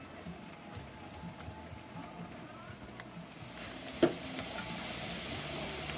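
Chopped onions fry in a pan for mushroom soup, giving a soft, even sizzle that grows slightly louder and hissier toward the end, with one brief clatter partway through.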